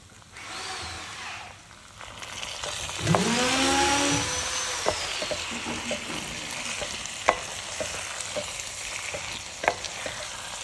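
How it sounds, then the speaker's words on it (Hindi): Mixed vegetables being lightly fried in a pan for an Odia vegetarian dish, a soft steady sizzle with a few tonal squeaks early on, then scattered spoon taps and stirring scrapes over the frying. "तो यहाँ पे मैं अभी सब्जियों को दे देती हूँ और हल्का सा इसे भून लेती हूँ"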